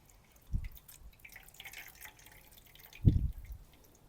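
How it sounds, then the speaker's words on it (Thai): Coconut milk dripping as grated coconut is squeezed with warm water, two soft, quiet splashes about two and a half seconds apart over near silence. "คั้นกะทิด้วยน้ำอุ่นเราจะได้กะทิที่มัน"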